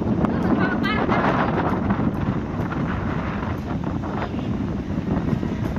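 Strong wind on a yacht in Hong Kong buffets the microphone in a constant, loud rumble that continues throughout.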